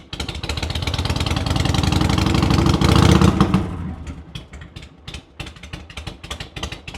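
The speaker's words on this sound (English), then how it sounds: "this has got the perfect sound of what you want to hear of an old Harley sound" An old Harley-Davidson motorcycle engine runs loud and steady, revving up for a few seconds before settling into a lumpy, uneven idle with distinct pulsing beats, heard close and alone.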